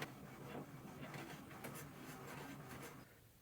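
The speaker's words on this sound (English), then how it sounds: "Usually in under 12 seconds, the print should come out." An HP 2855e printer prints a page, a faint continuous whir of the feed mechanism with a few soft clicks and shuffles, fairly close and steady before easing off at the end.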